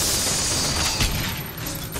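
A vending machine in the BioShock Infinite game whirs and clanks through its mechanism, a brief close burst of ratcheting, gear-like clatter with a sharp knock in the middle.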